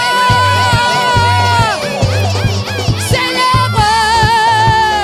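Church congregation at a Pentecost service shouting and cheering for joy, a loud sustained crowd roar with whoops and high voices over a steady rhythmic bass beat from the music.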